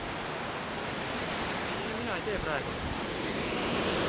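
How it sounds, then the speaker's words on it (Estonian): The thunderous roar of water crashing down a waterfall fills the air steadily and loudly from close by, with a faint voice briefly audible under it. "Ma kuulen, kuidas vesi karjub, kui ta plärtsatab vastu maad."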